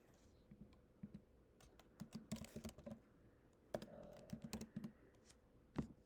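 Bursts of keyboard typing clack in quick uneven runs, close and fairly quiet, separated by brief pauses.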